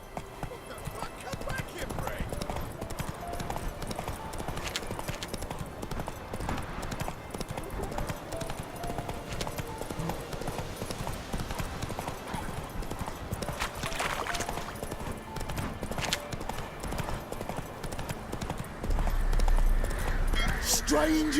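Geralt's horse Roach galloping in The Witcher 3, a steady rapid clip-clop of hooves that continues throughout with game ambience, a louder thump near the end, and voices speaking over it.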